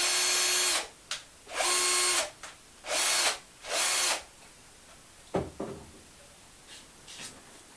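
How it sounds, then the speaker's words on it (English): A power drill whirs as it stirs bisque glaze, four loud bursts of a second or so each with brief gaps, then a few faint clunks and knocks as it stops. "I'm lazy, I use a power drill now"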